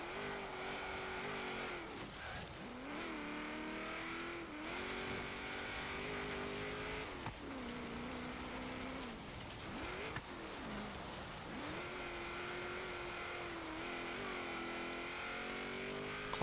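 A 1953 Chevrolet Corvette, heavily power-upgraded, racing an autocross course in Forza Horizon, its engine repeatedly revving up and dropping through gear changes in rising and falling waves, steady and mid-level with faint tire noise.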